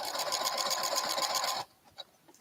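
A sewing machine stitches a side seam in a steady rapid whir of needle strokes, running close and loud for about a second and a half before stopping abruptly, followed by a faint click.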